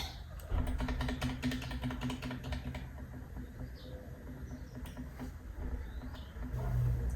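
Keys clatter on a computer keyboard during setup of a DIY NAS built from an old PC, heard as faint, rapid, uneven clicks that come in bursts over a steady background hum, with no talk.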